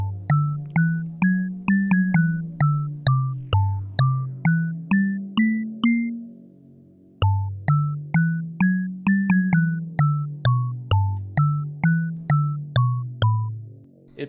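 Wind-up music box with a turning minstrel figure holding a small lute plays a lilting song: plucked tinkling notes in a steady rhythm, phrase repeated twice after a short pause, soft and alone.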